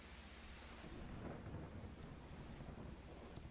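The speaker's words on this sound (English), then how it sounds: "through the thunder and the rain" A thunderstorm pours steady rain while low thunder rumbles continuously underneath, a dense, even wash of sound with no voices.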